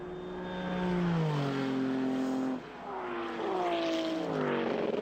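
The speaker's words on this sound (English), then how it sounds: "Lucas Lure into the pits with car number 6 in 4th place." Race car engines at the 2013 12 Hours of Sebring, one entering the pits, sound as whining notes that sweep downward in two passes, moderately distant, with a brief dip between them.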